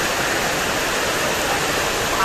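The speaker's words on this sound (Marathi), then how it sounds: "पाऊस तर अजून चालूच आहे" Rain falls steadily outdoors near a street during a monsoon outing, a dense, continuous hiss that fills the whole clip at an even loud level with no talk.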